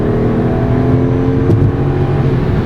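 A 2008 Jaguar XJ LWB engine revs hard on kickdown, a steady, loud mechanical drone heard from inside the car, held throughout with no talking.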